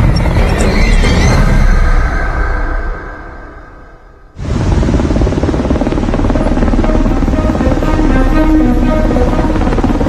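A US Air Force Pave Hawk helicopter flying high over the Gulf of Mexico, its rotor and engine roar loud and steady, briefly fading before a sudden close, dense blast of rotor noise returns and holds.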